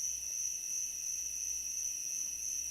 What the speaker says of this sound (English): God, those crickets are so loud, dude.